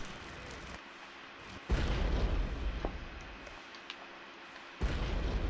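Fire attack spawning in the Roblox game Magic Revelations, two heavy whooshing bursts that roar for a few seconds each, with a low rumbling tail, loud and close.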